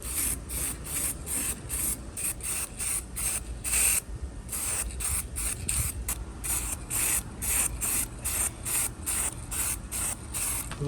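Aerosol undercoating sprays in rapid short bursts onto the underside of an Acura Integra GSR, a steady hissing pulse repeating close by with brief gaps, no voices.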